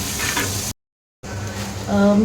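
Green chillies crackling in hot tempering oil for chivda, a close sizzle cut by a short gap of silence and then resuming, with a brief tonal hum near the end.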